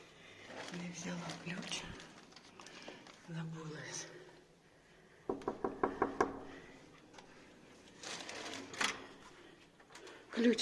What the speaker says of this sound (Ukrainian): От ключ не взяла, буду стукати.